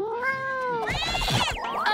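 A cartoon kitten meows in a French children's cartoon: a rising, drawn-out mew followed by a wavering, higher cry over a light musical background, close and clear.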